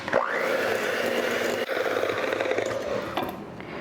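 An electric mixer whirs steadily through shortbread batter just after vanilla extract goes in, a continuous close motor drone with a brief dip midway.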